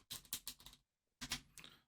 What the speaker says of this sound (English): I'm just gonna shuffle the deck